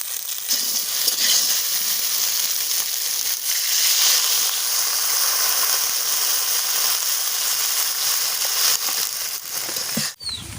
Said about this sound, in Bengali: হালকা নেড়ে চেড়ে দিয়ে দেবো পরিমাণ মতো জল।